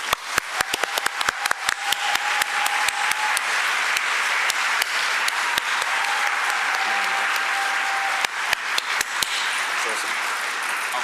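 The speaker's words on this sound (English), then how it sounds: "if you could maybe just join me in giving him a round of applause" A conference audience gives a sustained round of applause for Conor, dense steady clapping with a few sharper individual claps standing out near the front, continuing without pause across the whole clip.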